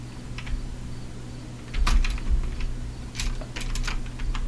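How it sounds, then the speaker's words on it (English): Computer keyboard keys pressed in scattered bursts during gameplay, soft clicks and taps over a steady low electrical hum, close to the microphone. "You will now hear sound of my failure, along with the sound of my keyboard presses."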